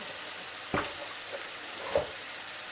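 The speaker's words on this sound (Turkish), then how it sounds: "Soğanım kavrulsun." Chopped onions frying in a pan give off a steady, fine sizzle close by, with two brief louder stirring scrapes at intervals. No one speaks.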